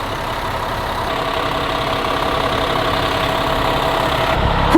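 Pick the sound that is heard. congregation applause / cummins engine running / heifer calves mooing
cummins engine running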